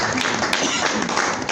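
An audience claps together in a dense, continuous patter of many hands, fairly loud and close, with no break across the burst.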